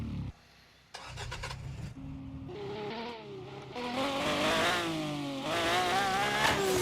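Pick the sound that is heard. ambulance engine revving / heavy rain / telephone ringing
ambulance engine revving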